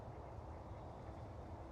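Ducks quacking outdoors along a muddy hiking trail, a steady mass of quacks and low flock chatter running continuously without pause, with geese and chickens nearby.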